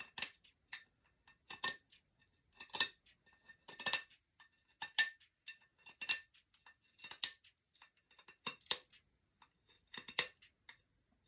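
Scissors cut through lace in a steady series of crisp snips, about one every second, close and fairly quiet against a silent background.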